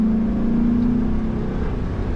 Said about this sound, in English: Go around the circle here and accelerate one more time.